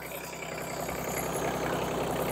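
An Iseki Geas TG273 compact tractor with cab sits idling, giving a steady, even engine drone and mechanical hum heard close and unchanging, with no voices.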